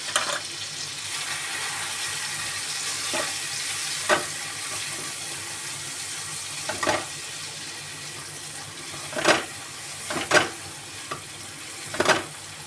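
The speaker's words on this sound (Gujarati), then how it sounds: "સાતળવાનું છે થોડુંક મીઠું મરચું અને હળદર નાખવાનું છે" Onion-tomato gravy for a restaurant-style Punjabi curry sautéing in a pan with salt, chili and turmeric, a steady low sizzle broken by several sharp scraping stirs of a spoon, close and fairly quiet.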